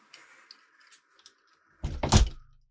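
A door shuts with a solid thunk, close and loud after a few faint light clicks and quiet rustles, while an SETTI+ SS501 smart WiFi door-open sensor is being tested.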